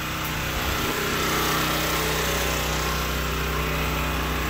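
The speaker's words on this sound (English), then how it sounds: "Compressor's ramping up." A compressor running off a small generator through a 240-volt transformer gives a steady, loud mechanical drone with a constant hum throughout, starting to ramp up in speed.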